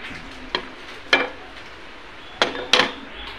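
A ladle spreads poha and semolina batter around an oiled pan over a soft, steady sizzle, with a few sharp metallic taps and scrapes standing out close by.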